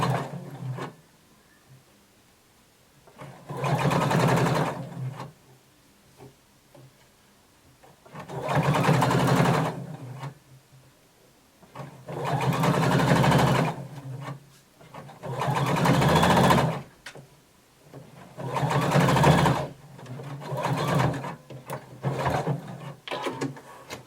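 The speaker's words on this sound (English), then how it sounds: "I'm going to sew close to the folded edge." Domestic sewing machine stitching close to the folded edge of a double-folded 3/8-inch hem on a skirt sleeve, running in five steady bursts of a few seconds each with quiet pauses between, close by and with no talk.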